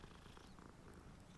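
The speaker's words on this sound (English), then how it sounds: "It was purring in my controller." A cat purring in the Hogwarts Legacy video game, felt through the controller, a steady low rumbling purr that continues evenly and faintly for the whole moment.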